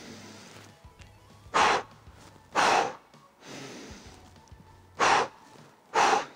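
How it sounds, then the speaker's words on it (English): Deep breaths drawn in during a morning breathing exercise, four loud, close, rushing inhalations in two spaced pairs with quiet pauses between, no talking. "Let me breathe back in."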